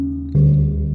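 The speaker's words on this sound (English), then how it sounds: "Indonesian gamelan gongs" An Indonesian gamelan gong rings with a sustained low hum, then a fresh strike adds a bright, steady pitched tone over the lingering resonance, loud and close.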